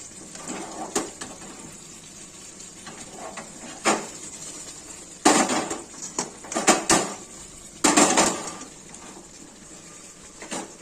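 A cooking pan of begun kofta is lifted off a gas stove, giving a few loud metallic clanks and scrapes of cookware at close range, separated by quieter kitchen handling noise, with no talk.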